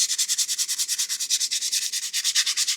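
Knife handle scales are sanded by hand with 220-grit sandpaper in quick, steady back-and-forth strokes, a close, even rasping rhythm of roughly two dozen passes with no voices.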